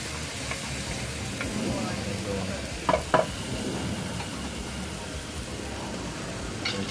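Red peppers cooking down in a pan for laing give a steady, moderately loud sizzle and hiss, broken by a couple of brief clinks.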